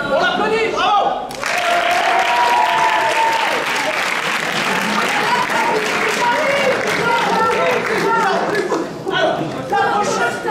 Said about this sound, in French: On l'applaudit, bravo!